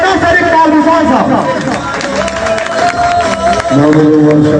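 A large crowd claps and cheers at a political rally (jalsa) in Kotehra, loud and continuous, with voices and amplified speech mixed into the applause throughout.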